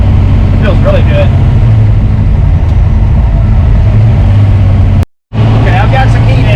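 Car engine behind a Tremec TKX manual transmission during break-in driving, a steady droning hum under road noise as RPM is held up, loud and close, with a brief dropout.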